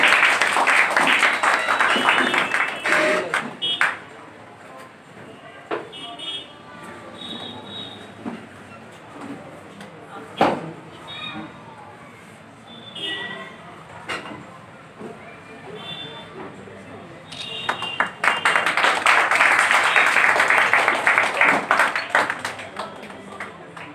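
An audience applauds at a VICE Day celebration and certificate distribution ceremony. Loud, dense clapping opens the stretch and returns strongly near the end. Quieter noise and a speaking voice fill the middle.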